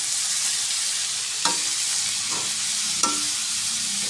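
Ampalaya (bitter gourd) sautéing in a pan at home, with a steady soft sizzle and two or three distinct scraping stirs of a utensil against the pan, close and fairly quiet.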